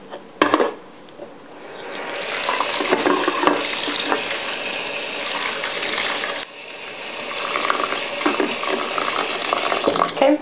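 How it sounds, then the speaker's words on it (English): Shirataki noodles rinsed under running tap water, a steady close gushing stream with noodles shifting and splashing. It pauses briefly partway through, then resumes, with no voices. "I have my shirataki noodles. The package says to rinse them, so that is what I'm going to do."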